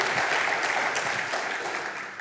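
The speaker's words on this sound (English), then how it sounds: "a big round of applause for Crescent Crown Distributing" Audience applause for Crescent Crown Distributing at a Mesa Morning Live community event, a dense steady wash of clapping that holds loud throughout and eases slightly toward the end.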